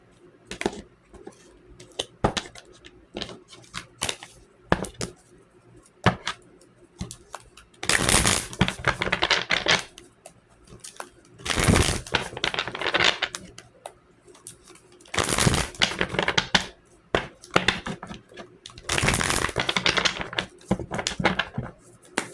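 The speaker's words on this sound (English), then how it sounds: "I'll be shuffling the hell out of these cards" Tarot cards shuffled vigorously in repeated riffling bursts, loud and close, separated by short pauses with lighter card taps and handling noises.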